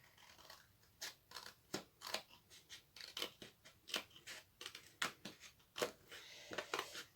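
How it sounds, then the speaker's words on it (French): Scissors snip around a circle traced on paper or card for a box made from an empty tape roll, a quick irregular series of close, crisp cuts with no talking. "Et on va venir découper donc le rond."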